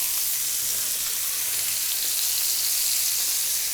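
Food sizzles steadily in a frying pan right after being flipped, a dense, even hiss holding at constant loudness with no voices.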